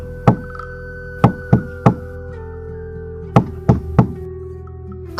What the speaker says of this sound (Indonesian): tiba-tiba saja dia mendengar suara ketukan pintu jendela